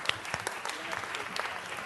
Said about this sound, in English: let's give the commander one more round of applause